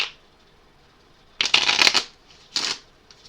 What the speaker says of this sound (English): you shuffle the deck again before you continue.